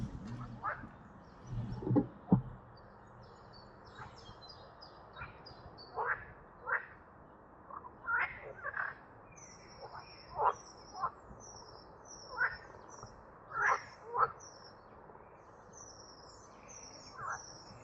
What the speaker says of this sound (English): I can see a few frogs on the lotus leaves. And you can definitely hear them.